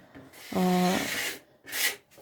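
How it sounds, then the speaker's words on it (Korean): Sandpaper is drawn lightly across the painted surface of an old wooden vanity dresser, giving two close, loud rasping strokes. A brief squeaky tone rises inside the first stroke. "표면이 조금 정리되는 듯한 그런 개념으로 사포 작업을 해줄게요"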